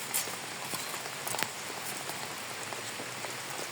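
Steady rain falls outdoors on a farm during a wet workday, a dense continuous hiss of drops with a few louder close patters and no speech.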